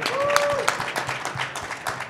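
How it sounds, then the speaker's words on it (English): Applause from the audience at a convention panel reunion for the horror film Night of the Demons in New Jersey, moderately loud and brief, with a voice talking over the clapping. "give one more round of applause"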